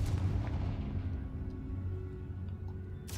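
Confringo fire spell in the video game Hogwarts Legacy bursts with a heavy explosive boom that rumbles and fades over a few seconds, followed by a sharp crack at the end.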